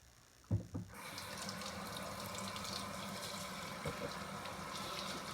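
After a brief clatter, a tap starts and water runs steadily into a sink during washing up after a shave, close and continuous, with no talk.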